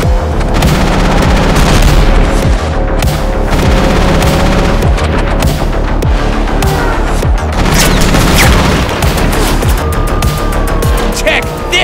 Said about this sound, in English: Eat my minigun